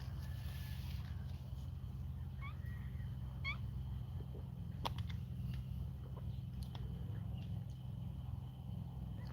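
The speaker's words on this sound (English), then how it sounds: "Oh, was the cat going up a tree again, Angel?" A cat meows a few times, faint and at a distance, over a steady low rumbling background, with no talking.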